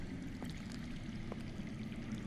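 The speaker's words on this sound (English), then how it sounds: "I hear water. From underground." Steady low rushing water with faint trickles, heard from underground in a Game of Thrones video game; a continuous, even murmur with no talk.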